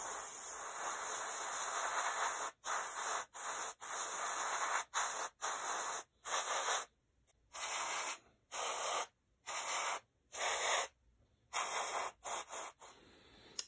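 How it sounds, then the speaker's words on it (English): A spray can laying a light coat of blue paint, short hissing bursts repeated in a quick uneven rhythm with brief silences between them, close and fairly quiet. "So it's going to be a light spray of blue coat"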